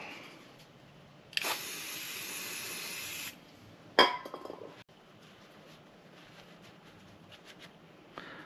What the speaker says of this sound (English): then you just hit it with some brake clean.